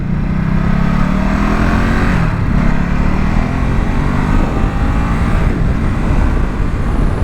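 A 2023 Ducati SuperSport 950S engine drones at a steady, smooth pitch while riding. The hum is loud and continuous, mixed with heavy wind rush and shifting slightly as the revs rise and fall.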